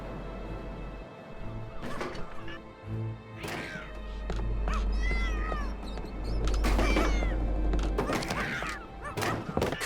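Several cat meows come from the Tintin Reporter: Cigars of the Pharaoh video game, some drawn out and wavering, over low game ambience with occasional soft thuds.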